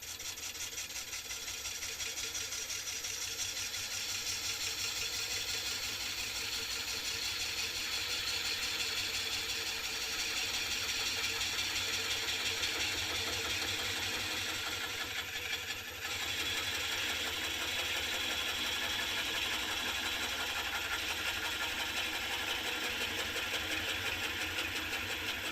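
Wood lathe turning a sycamore blank with a hand-fed gouge, a continuous steady whirring and hissing cut held evenly for a long stretch, briefly dipping once partway through.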